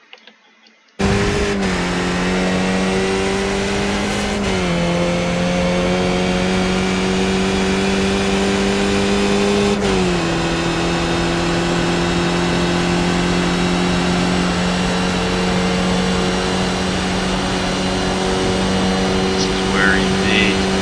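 A race car in the iRacing simulator on the Montreal Circuit Gilles Villeneuve, held at full throttle as a loud, steady, high engine drone with a few small pitch shifts, while someone talks over it.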